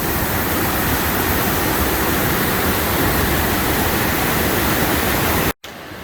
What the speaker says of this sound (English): A little closer up, Copeland Upper Falls.